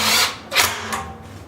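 A power drill drives self-tapping sheet metal screws into a water heater in short whirring bursts, close and fairly loud, with about three quick spins in under two seconds.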